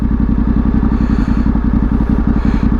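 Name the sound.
Yamaha Tenere World Raid motorcycle riding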